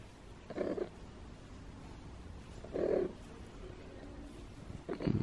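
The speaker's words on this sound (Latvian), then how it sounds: "Kaķi!" Domestic cat purring close by on a rainy spring day, a soft continuous low rumble with brief louder bursts of cat vocalizing or purr swells recurring about every two seconds.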